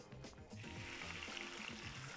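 Boiled pasta water ladled into a pan of oil with golden, chip-like garlic for spaghetti aglio e olio, setting off a loud, steady sizzle and bubbling that holds for about two seconds after a brief quieter start.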